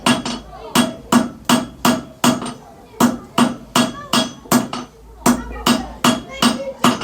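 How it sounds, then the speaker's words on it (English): Hammer blows strike a nail over and over to straighten it and work out the dents, landing in a steady, loud rhythm of about seventeen sharp metallic hits, with a brief pause near the middle. "I'm going to straighten this out now, trying to get all the hammer marks out of my nail"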